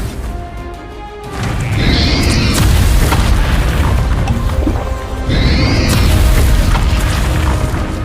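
Spell explosions from Bombarda and Confringo in the video game Hogwarts Legacy, a pair of loud, close booming blasts with crashing bursts that fill the whole stretch, a short lull between them.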